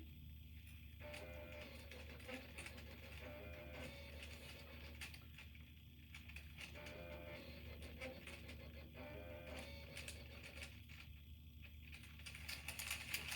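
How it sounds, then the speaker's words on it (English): A voting machine prints out its vote totals, a steady mechanical printer whir with repeating feed strokes and faint clicks running throughout at low level, with no talking. "At this point is when all of your totals are starting to print."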